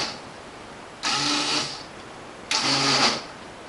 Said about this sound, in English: Blending all my ingredients there.